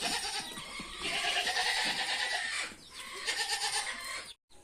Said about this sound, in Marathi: शेळ्या बाहेर काढताना